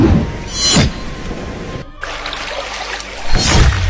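Rainwater trickles and splashes as it floods into a house during heavy rain, steady watery noise broken by a few louder rushing swells and a brief dropout near the middle, no talk.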